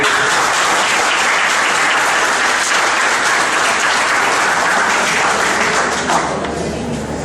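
Loud, dense audience applause fills a hall at a tribute event at KASBIT. The clapping is sustained and even throughout, thinning slightly in the final second.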